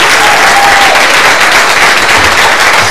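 Church congregation clapping and applauding loudly and steadily throughout, a dense wash of hands filling the room, with no voice standing out.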